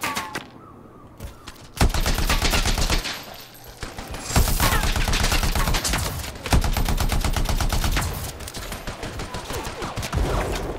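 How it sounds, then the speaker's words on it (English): A turret in the Anthem video game fires rapid automatic bursts at the player on Xbox One X, loud and close, several long strings of shots separated by short pauses, no talk over it. "I got a turret, like, literally firing at me right now."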